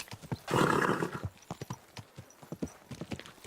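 A horse whinnies loudly in a long burst, followed by a quick run of clip-clopping hooves close by.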